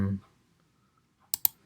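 Two quick, sharp mouse clicks, sounded close together while shapes are drawn in Adobe Illustrator, follow a brief low voice at the start and near silence.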